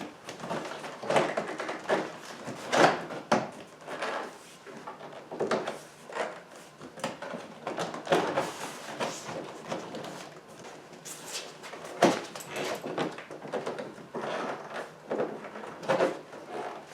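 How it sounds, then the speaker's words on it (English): A fourth-generation Ford Mustang's door panel being pried off yields a string of close plastic-and-trim clicks, knocks and rubbing scrapes in uneven bursts with short pauses between. "So the final step is to remove the door panel."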